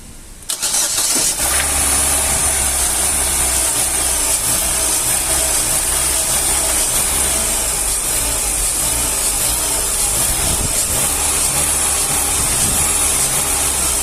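A 2009 Astra engine cranks and catches, then settles into a steady, loud idle with a low rumble, carrying on alone without any talk.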